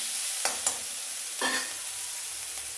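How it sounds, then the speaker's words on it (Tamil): Ginger, garlic, green chilli and curry leaves frying in a pan, a low steady sizzle broken by a couple of quick spoon scrapes and a brief louder stir, heard close with no voices. "கருவேப்பிலை போட்டுக்கலாம் நல்லா வதங்கட்டும்"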